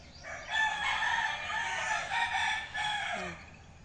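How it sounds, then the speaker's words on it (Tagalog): A rooster crows loudly and close by, one long drawn-out call lasting several seconds, with no voices over it. "Yan ang ating mga ibon dyan sa taas."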